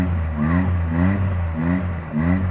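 A 1984 Suzuki FX car engine revs up and down in short repeated bursts, a close, loud mid-pitched drone rising and falling about every half second over a steady idle hum.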